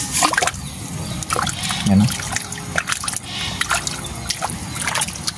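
Water trickles and dribbles through a canal in soft, intermittent splashes, while people talk nearby over it.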